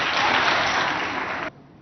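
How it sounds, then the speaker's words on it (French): Audience applause at a school event in Abéché, loud and dense for about a second and a half, then cutting off sharply to near silence. "que je vous demande d'applaudir très très fort"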